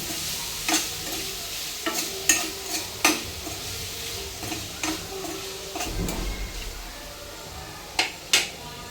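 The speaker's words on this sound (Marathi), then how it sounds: "हे आपलं पनीर चांगल्या प्रकारे फ्राय होतंय आहे" Paneer cubes frying in a pan for a dhaba-style paneer masala, with a steady low sizzle broken by sharp scraping clicks as a spatula stirs the pan, mostly alone with no talk.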